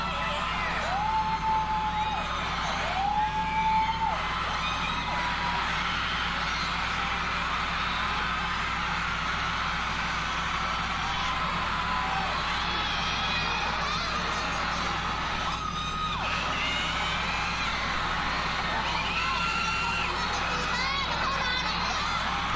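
Large crowd at a concert screams and cheers continuously and loudly, with sustained whoops and yells filling the whole stretch, faint voices mixed into the roar.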